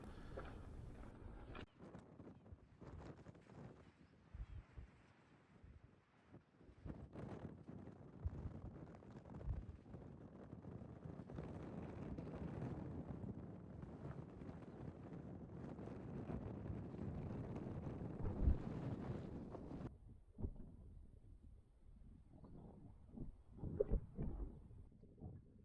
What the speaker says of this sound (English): It's quite windy, which is not a bad thing.